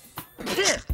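A cartoon character in the animated series What's with Andy sneezes once, a quick close burst with a rising vocal sweep, bracketed by short breathy sounds.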